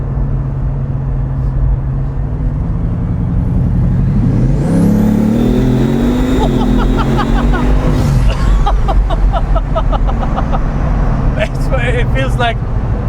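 Bugatti Veyron Grand Sport accelerating hard from inside the cabin, engine roar climbing with a rising turbocharger whir, while occupants talk and exclaim over the noise.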